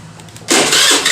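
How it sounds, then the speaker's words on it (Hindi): A Honda Grazia BS4 scooter engine starting up: a short low cranking whir that catches halfway through and jumps into a loud, steady running buzz, heard up close. "गाड़ी को स्टार्ट करेंगे"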